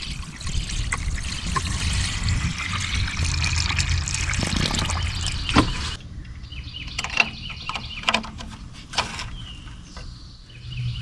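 Coolant pours into the radiator of an old Kubota tractor left abandoned in weeds for years, a steady loud trickling stream for about six seconds, then quieter scattered drips and small clunks.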